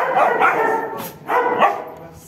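A dog barks and yips up close in two short bursts of several sharp, whiny barks, with a brief quiet gap between them.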